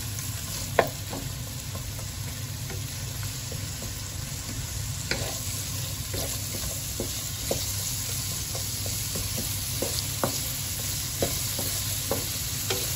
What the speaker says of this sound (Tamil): ஆனியன் அதில் பொன்னிறமாக வதங்கணும்.